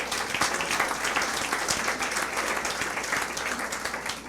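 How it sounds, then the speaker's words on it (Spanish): A church congregation at an Easter resurrection service applauds, a steady, dense wash of many hands clapping together for several seconds with no pause. "Un aplauso al Señor"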